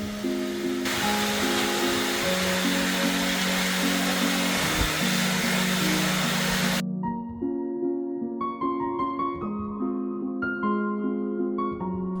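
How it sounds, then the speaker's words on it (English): A vacuum cleaner runs steadily on a garage floor, picking up settled dust with a loud, constant whine, then cuts off abruptly partway through, leaving a fading tonal hum behind. "use the vacuum to clean up any dust that may have settled"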